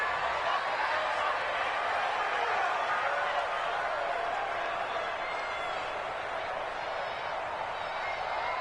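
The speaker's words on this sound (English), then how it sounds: "Listen to this crowd now" A virtual stadium crowd roars in a PS4 American football game during a two-point conversion attempt after a late touchdown. The broad, steady wash of cheering holds at an even level throughout.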